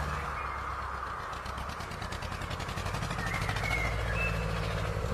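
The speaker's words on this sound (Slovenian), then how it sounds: "Kmet gre s traktorjem obdelovati njivo." A steady low engine rumble chugs along continuously, like a tractor running nearby, with a faint rhythmic mechanical clatter on top.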